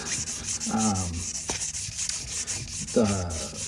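A fret-leveling grit file rubs back and forth across guitar frets in a few slow, close strokes, a scratchy abrasive sound with brief gaps between passes.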